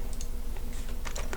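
Quick, light tapping on a computer keyboard, a steady run of soft, close keystrokes in a quiet room with no talking.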